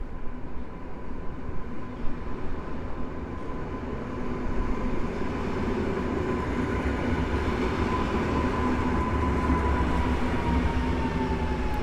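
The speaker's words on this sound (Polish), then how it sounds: "Wjeżdża pociąg Regio ze stacji Kielce Główne" A Regio passenger train from Kielce rolls into Sosnowiec Główny station, a steady, building rumble of wheels and wagons with a sustained electric hum, close and continuous, growing louder toward the end.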